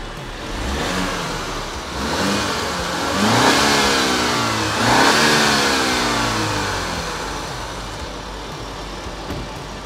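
A BMW 630i GT (2021) accelerates hard, its engine rising in pitch through two gear changes with a smooth, loud, close growl, alone without talk.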